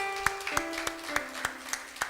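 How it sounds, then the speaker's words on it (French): A church congregation clapping in worship, with sharp, evenly spaced claps in a steady rhythm of about three per second over sustained musical tones. "Nous allons applaudir le Seigneur très fort."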